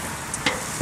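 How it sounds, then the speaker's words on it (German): Vegetables sizzle softly on a grill for a vegan döner, a steady low crackle with a couple of brief sharper pops, no voices. "Gemüse vor sich hin brutzelt"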